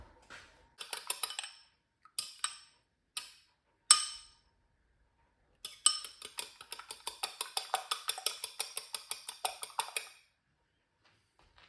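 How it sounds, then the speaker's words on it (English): Egg whisked in a bowl during fish cake prep, a few short bursts of clinking followed by a longer run of quick rhythmic metallic taps against the bowl, close and clear with no talk. "we're just going to whisk that egg up"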